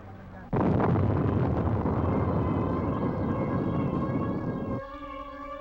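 A sustained, roaring blast from the explosion of the French ship La Coubre, loaded with arms, in Havana harbour in March 1960, a dense rumbling wash lasting about four seconds with a steady tone continuing faintly beneath and after it.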